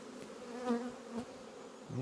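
Honey bees fly in front of their hive during a smoker-free colony inspection, giving a steady close buzzing hum with a few louder passes as individual bees zip near.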